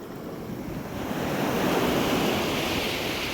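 Sea waves break on the shore in a Kerala net-fishing setting, a soft wash swelling into a louder sustained roar of surf with some wind, and no talking.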